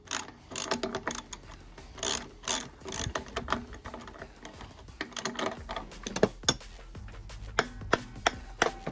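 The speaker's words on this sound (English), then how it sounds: "I press out the bearings." Repeated mechanical clicking and ratcheting with creaks and metallic knocks, irregular bursts of effort as a hand-operated press is worked to push bearings out of a Ford Fiesta Mk6 rear axle, close and fairly loud.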